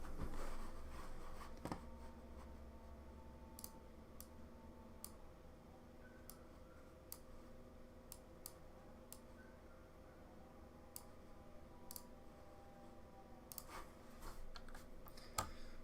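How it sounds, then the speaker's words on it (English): Clicks from a large keyboard fitted with a solenoid, sharp isolated taps spaced irregularly over a low background hum, sometimes in quick pairs, with no voices. "Hop on my big ass keyboard here with solenoid to look up the recap"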